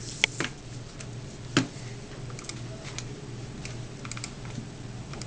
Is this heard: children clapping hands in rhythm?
no